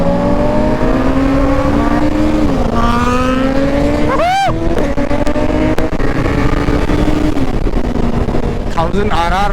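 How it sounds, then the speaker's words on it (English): A Suzuki Hayabusa superbike engine drones loud and close while riding in a group of superbikes, its pitch rising and falling with throttle and a few quick rev sweeps cutting through. "इसका बहुत ही soothing sound है यार इस हायाबुसा का"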